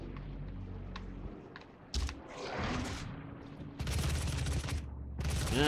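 Gunfire in the video game Doom: bursts of shots at around two seconds and again from about four seconds to the end, loud and dense, with mechanical clatter and game effects between them.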